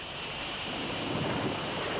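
A cartoon storm rumbles as a dense, steady roar of low noise, like thunder and wind mixed with surf, with no voices, holding at an even loudness throughout.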